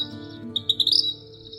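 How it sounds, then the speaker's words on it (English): Vermilion flycatcher calling alone, a quick series of thin, high chirps rising into a brief twittering flourish, clear and close against a quiet background. "It's the vermilion flycatcher."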